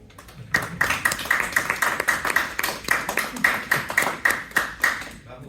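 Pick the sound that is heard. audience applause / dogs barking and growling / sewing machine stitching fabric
audience applause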